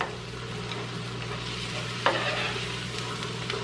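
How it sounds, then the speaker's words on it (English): About a cup of mushrooms sautéing in a pan for low-carb Swedish meatballs, a soft continuous sizzle with light stirring and a brief utensil scrape midway, no voices. "we're just going to saute these until the mushrooms, lost one, are tender"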